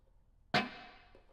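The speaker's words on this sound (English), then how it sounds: "this is the short slap, right?" A single sharp electric guitar hit through a short slapback echo, a bright loud attack followed by a quick decaying repeat.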